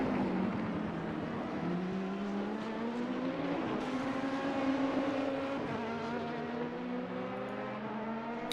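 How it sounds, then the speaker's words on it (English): GT3 race car engines in an Assetto Corsa endurance race at Daytona howl steadily at high revs, overlapping tones rising and shifting with gear changes, continuous and moderately loud without speech. "Radekis behind the wheel of the Dream to Drive car."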